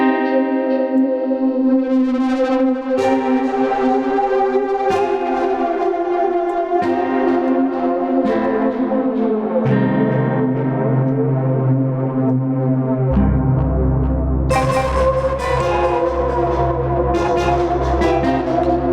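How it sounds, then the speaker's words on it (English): A SynthMaster 3 synth patch played on an iPad runs through a distortion effect, producing gritty sustained chords that shift pitch every few seconds and stay loud and dense throughout, with no talking. "There's the distortion."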